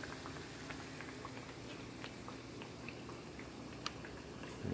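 Fried raviolis sizzle in hot oil, a steady, close bubbling crackle with occasional small pops running throughout, and no one talking.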